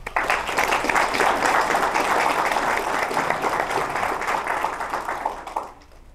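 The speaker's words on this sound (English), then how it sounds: "give them all a round of applause" Applause at a fire department awards ceremony, with dense and steady clapping from the audience that continues for several seconds and then fades near the end.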